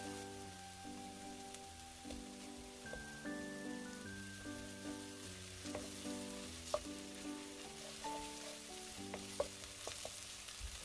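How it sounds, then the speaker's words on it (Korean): Chopped scallion and minced garlic stir-fry in oil in a wide pan, a quiet crackle under steady background music with a few sharp ticks. "먼저 다진 파와 간 마늘 한 스푼을 넣고 파향과 마늘향이 솔솔 올라오도록"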